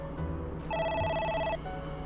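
Single electronic telephone ring from the AI: The Somnium Files video game, a bright, buzzing tone held for under a second and heard clearly over a low ambient bed, with no voices.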